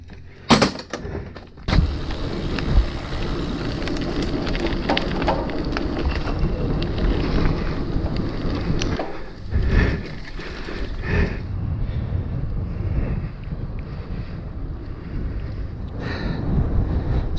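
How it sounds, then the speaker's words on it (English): Gusting wind buffets the microphone on a bike ride along a disused railway line turned nature reserve, a heavy roaring rumble that surges and dips, with louder blasts at the start and around the middle. "So windy today."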